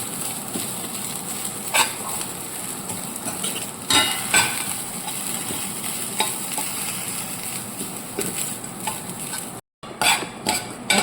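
Grated coconut and urad dal roasting in a pan, a steady sizzle broken by repeated scraping and stirring knocks from a spoon against the pan, close, with a brief dropout near the end and no voices.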